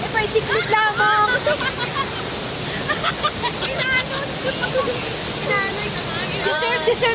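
Tipakan Falls in Cavinti, Laguna, with strong rushing water, a constant broad roar of falling water close by, heard under near-continuous talk and laughter from several people.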